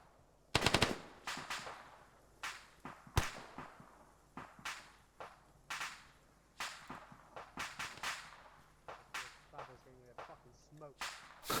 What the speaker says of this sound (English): I'm just having bullets whiz over my head